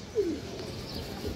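A silver male pigeon gives a soft, brief coo against a quiet background, fairly close and alone.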